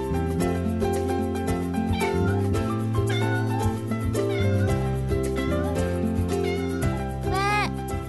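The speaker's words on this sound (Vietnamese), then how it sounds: "con mèo con của nhà cô Lan dễ thương quá" A cartoon kitten meows repeatedly in high, drawn-out cries over steady background music, ending with a rising, wavering call.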